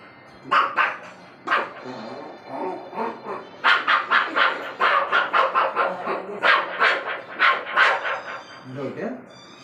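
A human voice imitating two puppies, rapid high yips and barks in quick bursts, close and loud, with a brief whimper at the end.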